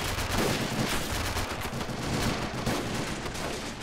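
Gunfire during an amphibious marine landing on a castle in a video game, a dense continuous crackle of shots and machine-gun fire without a break, loud throughout.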